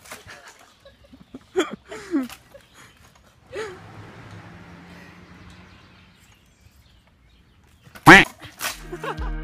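A dog barks in a few sharp, separate bursts near the start and again loudly toward the end, with quieter scuffling and faint noise in between.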